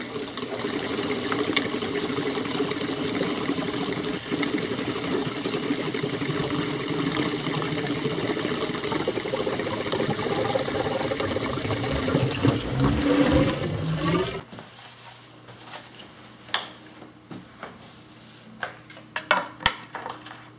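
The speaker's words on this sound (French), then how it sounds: "on remplit le réservoir d'essence complètement" Gasoline mixed with stabilizer pours into a boat's fuel tank during winterizing, a steady close liquid gush that runs continuously for about fourteen seconds, then stops abruptly, leaving quiet with a few small knocks and clicks.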